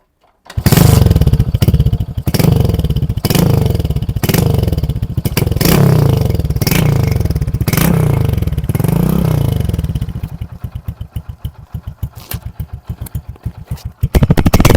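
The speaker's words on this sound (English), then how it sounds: "I shall make you listen to the exhaust note" A motorcycle engine runs with a throaty exhaust note, close and loud, rising and falling through a series of rhythmic revs before settling to a lumpy, lower idle with a final blip.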